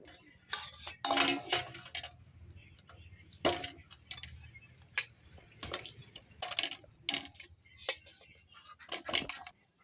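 Boiled duck eggs and potatoes lifted out of a pot in a rural kitchen: scattered, close metallic clinks and knocks of utensil against pot come in short irregular bursts over a quiet background.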